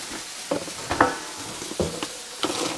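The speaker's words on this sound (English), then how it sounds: "I'll give them 1 minute each side to sear them." Steaks sizzle loudly on a hot griddle, a constant crackling hiss with occasional sharper pops and spits.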